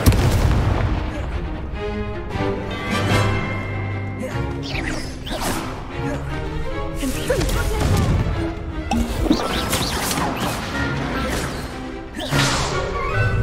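Repeated Incendio fire spells cast in the Hogwarts Legacy video game burst out as booming, crackling blasts over a dense, continuous bed of game effects and music, with a voice heard at times.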